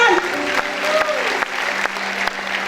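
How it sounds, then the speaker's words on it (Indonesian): Applause from a crowd at a Christmas youth revival gathering fills the space steadily, loud and continuous, with a sustained tone and scattered voices mixed in. "Tepuk tangan."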